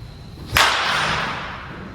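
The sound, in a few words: wooden bat hitting a baseball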